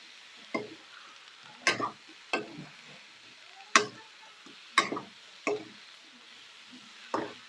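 Garlic shrimp cook in a pan under a soft, low sizzle, with periodic crisp scrapes and clacks of a utensil stirring every second or so, fairly quiet overall.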